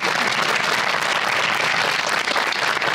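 Dense, continuous applause from a TV studio audience, loud and steady throughout with no talking.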